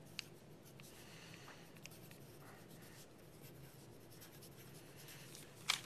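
A pencil drawing circles on paper, a soft continuous scratching and rubbing with a few light taps, quiet and close, with no talk.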